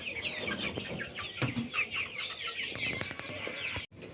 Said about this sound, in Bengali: দেখো এর মধ্যে দেশি মুরগি রয়েছে, এই যে দেশি